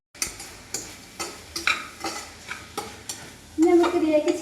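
A spoon stirs food frying in a pan, with regular scraping strokes about every half second over a steady sizzle, close up, and a louder burst of sizzling near the end; no talking.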